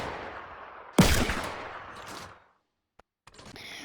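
A single heavy gunshot from Fortnite booms close and loud, its echo trailing off over a second or so, followed by silence and then a couple of faint clicks and a soft shuffling tail.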